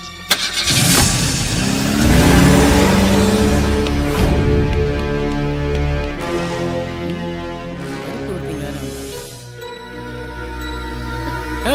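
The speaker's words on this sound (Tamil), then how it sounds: "டிரைவர் வண்டி எடு." A car engine starts, revs loudly up close and settles into a mid-pitched drone as the vehicle pulls away, with the sound easing off toward the end and no voices.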